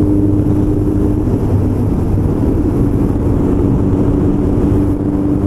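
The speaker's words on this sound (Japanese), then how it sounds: "マフラーを変えまして、若干サウンドが変わっております。 重低音がねちょっとかなり響きますけどね、" A motorcycle fitted with a newly replaced aftermarket muffler cruises at about 80 km/h through a tunnel, its exhaust a loud, steady, deep droning rumble with constant wind roar and no talking.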